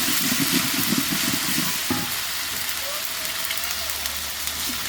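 Ginger-garlic paste being stirred into browned onions frying in a pot over a clay stove for biryani, with a loud continuous sizzle and rhythmic stirring strokes at first that give way to a steady rain-like hiss.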